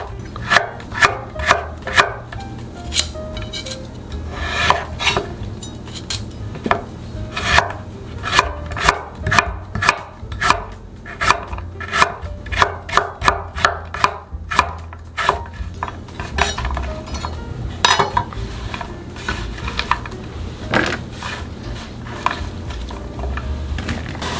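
A knife chops repeatedly through broccoli and imitation crab on a cutting board, a steady run of close, crisp taps with brief pauses, with no talking.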